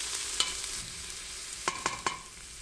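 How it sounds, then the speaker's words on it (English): Onions sautéing in a pan with frozen chopped green peppers added, a steady soft sizzle broken by a few sharp spoon clicks and scrapes near the end. "My onions are sauteed, adding some chopped green peppers from the freezer."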